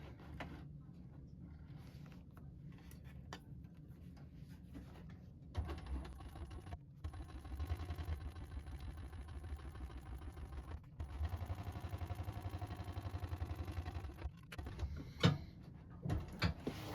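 A sewing machine stitches and back stitches a tote bag, its mechanical rattle running in bursts with short pauses between them, heard close and fairly quiet.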